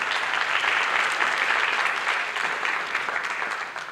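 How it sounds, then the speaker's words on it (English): A crowd applauding steadily at a high school senior honors and military recognition ceremony, dense clapping that holds at an even level for several seconds with no voices. "So if we could give another round of applause to Ahmad."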